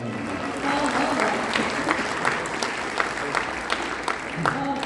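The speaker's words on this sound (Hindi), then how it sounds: "एक बार जोरदार अपने लिए आप तालियां बजाएं।" A mushaira audience at a Sir Syed Day international poetry gathering claps together, a broad crowd of hands blending into a continuous wash with some louder claps, moderately loud and steady.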